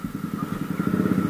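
A motorcycle idles nearby at a riders' gathering, its engine putting out a rapid, even low pulsing for a brief moment.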